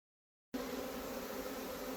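A dense, steady buzzing drone of a honeybee swarm fanning, constant and even, starting abruptly and holding at a moderate level throughout.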